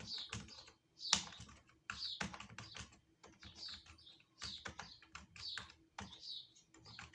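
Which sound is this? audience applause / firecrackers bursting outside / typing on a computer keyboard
typing on a computer keyboard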